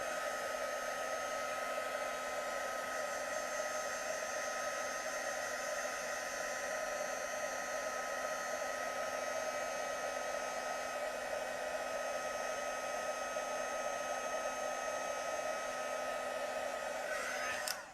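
A heat gun blows continuously for heat embossing a card, a steady close whooshing fan roar with a high whine that holds level for the whole stretch and cuts off abruptly at the end.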